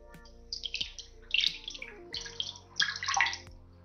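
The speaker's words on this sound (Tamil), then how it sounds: "தண்ணி ஊத்திக்கலாம்." Water is poured into a pot of goat intestine for a Tamil-style fry, with splashing bursts in two or three pours over a low background hum and no talk.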